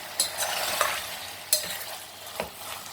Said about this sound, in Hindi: आलू हमारे नीचे से लग रहे हैं और अच्छे से भून भी चुके हैं।